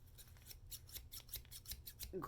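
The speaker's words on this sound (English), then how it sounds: "I love these scissors. They're so easy to use." Brand-new, stiff scissors make a quick run of crisp snips, roughly a dozen sharp cuts spaced evenly and close up, with no talking.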